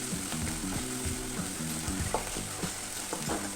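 Green chillies and garlic fry in hot oil with a steady close sizzle, stirred with light scraping and clicking strokes that come and go.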